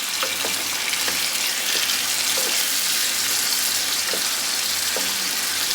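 Onion and mushroom fry in a pan for coq au vin, a continuous broad sizzling hiss with occasional soft clicks from stirring, close and steady with no talking.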